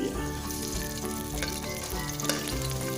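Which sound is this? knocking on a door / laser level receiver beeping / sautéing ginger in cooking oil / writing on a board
sautéing ginger in cooking oil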